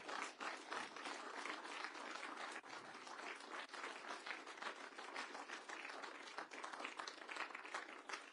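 Quiet, steady applause from a small gathering at a council meeting, welcoming award recipients forward; even clapping holds for the full stretch with no voices over it.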